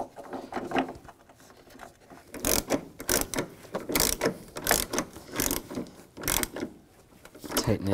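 Ratchet turning the battery hold-down bolt on a 1999-2006 Chevrolet Silverado 1500, a series of quick clicking bursts in uneven runs, close and fairly quiet.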